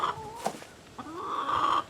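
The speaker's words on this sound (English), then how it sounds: "Larry threw feed out for the chickens" Chickens cluck and call near the feed thrown out for them, a few short nasal squawks and a drawn-out cackle, fairly close.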